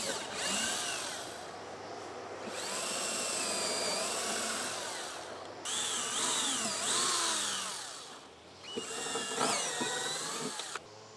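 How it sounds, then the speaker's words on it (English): A power drill driving star-head deck screws into the end of wood for a lawnmower trailer, three loud whirring bursts that rise and bog down in pitch as each screw seats, close with brief pauses between. "Something else you could do is also drive in screws from the end,"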